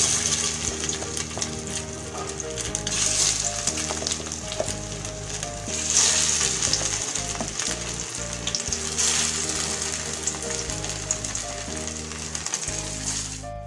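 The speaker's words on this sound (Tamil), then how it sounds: "ஒரு பக்கம் ஃப்ரை ஆகிடுச்சு. நம்ம திருப்பிடலாம்." Rice cutlets frying in hot oil, a dense continuous sizzle and crackle, close and steady throughout, with faint clinks of utensils now and then.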